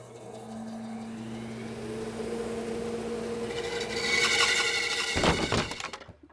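A bandsaw cuts through a piece of wood in a woodshop while building recycled medicine cabinets: a steady motor hum with a whining tone, rising into a harsher, brighter cutting rasp before a short clattering burst as the offcut breaks free.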